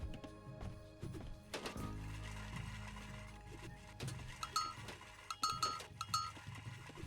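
Goats bleat in several short calls in Age of Mythology: Retold, mixed with game thunks, unit sounds and background music during a competitive match.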